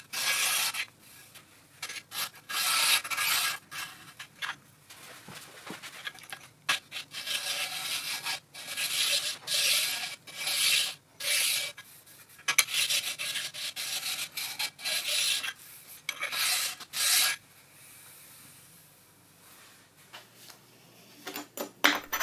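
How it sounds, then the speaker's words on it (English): A narrow abrasive stone hones the under edges of a CJ0618 7x12 lathe part, giving repeated short rasping strokes in bursts with brief pauses, close and fairly loud throughout. "I'm using a very narrow abrasive stone and a lot of patience."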